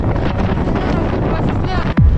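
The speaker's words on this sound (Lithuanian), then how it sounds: "Labai stiprus vėjas atviroj erdvėj." Strong wind roars and buffets the microphone continuously in open space, a heavy rumbling gust ending in a sharp thump.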